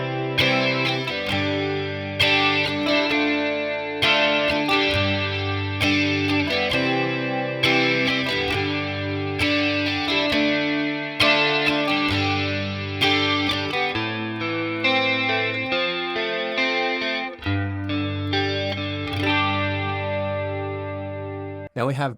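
Electric guitar through distortion, chorus and other effects plays the chorus of a song, loud and close, with steady strummed chords and sustained notes throughout.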